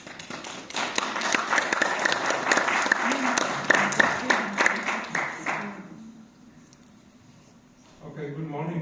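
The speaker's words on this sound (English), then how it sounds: "So I ask for some little applause for Erich Schneider." An audience at a University of Hanover lecture claps warmly for about five seconds, the applause thinning out and fading to quiet before a voice starts speaking near the end.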